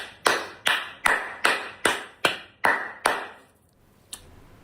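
Eight sharp, evenly spaced hand claps ring out close and loud in a steady rhythm, each with a short decay, then a pause before one fainter final clap.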